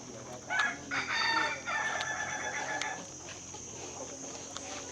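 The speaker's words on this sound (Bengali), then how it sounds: "বিভিন্ন জাতের মুরগি ওরা পালে" Chickens cluck and call nearby in a Thai village while a rooster crows in the first few seconds, over a constant background hum.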